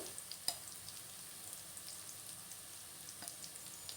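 Onions deep frying in oil for egg biryani give a steady, faint sizzle with a couple of sharper pops early on and near the end, with no voices.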